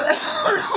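A single throaty cough, close and fairly loud, with a rough breathy texture lasting under a second in a casual indoor conversation.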